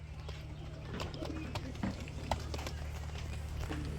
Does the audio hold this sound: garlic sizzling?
no